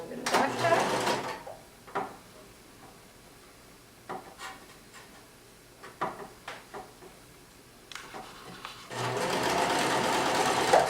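A sewing machine stitches around a sleeve hem, with loud sustained runs of stitching at the start and end and quieter handling noises and clicks between them.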